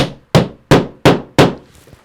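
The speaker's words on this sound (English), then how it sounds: "take your hammer and just pound the plug anchor into place" A hammer drives a plastic plug anchor into drywall in five sharp, evenly spaced blows, each a loud close knock with a short ringing decay, and no other sound between them.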